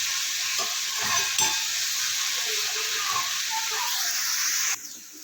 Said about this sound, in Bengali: আমাদের যতক্ষণ পেঁয়াজটা লাল লাল করে কিন্তু ভাজা না হবে, ততক্ষণ কিন্তু আমরা এটা ভাজতেই থাকবো।